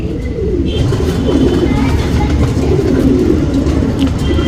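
Pigeon cooing in a loft of fancy breeding and flying pigeons, a steady low murmur running throughout with a busy background hum and no speech.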